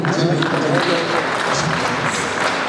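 A crowd at an election gathering claps, a dense, steady patter of applause from many hands with a voice speaking over it throughout.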